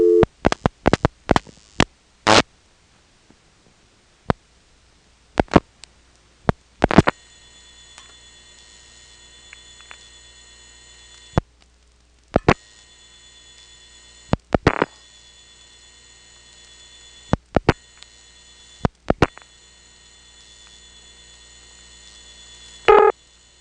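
Dialing through a 1977 step-by-step telephone exchange into a trunk toward a non-working number: a series of sharp, evenly spaced switching clicks and pulses, then a steady hum, with clusters of clicks recurring between quiet stretches.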